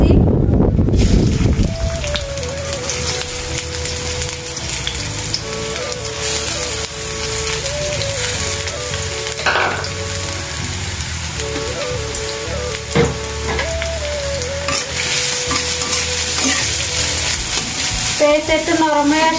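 Chopped onions fry and are stirred in hot oil in a wok, giving a steady close sizzle with scraping stir strokes throughout; cooking for a dried fish bharta.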